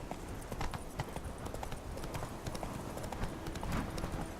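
Roach the horse's hooves clip-clop at a steady trot in The Witcher 3, with loud, continuous hoofbeats running the whole time under faint game ambience.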